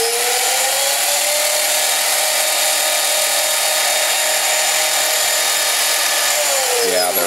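Aircraft engines running steadily after the throttles are fired back up, a loud continuous high-pitched whine and roar with no pauses throughout.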